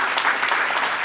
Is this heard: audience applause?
yes